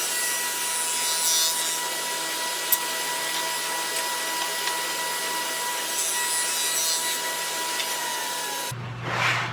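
A saw cuts dados in wood for candle holder legs, a steady, loud grinding rasp running continuously close by for nearly the whole stretch before stopping abruptly near the end.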